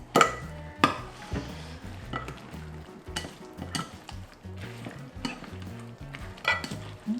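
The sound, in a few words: hand-mixing steamed eggplant with seasoning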